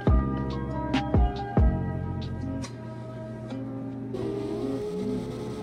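Car engine from CarX Drift Racing Online during a 360 drift, revving hard in a few sharp bursts before settling into a steady drone, with a shift in tone near the end.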